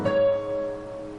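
Both hands on piano playing the combined melody and left-hand pattern of a song, a sustained chord with a bright ringing note, short and moderately loud, no talking.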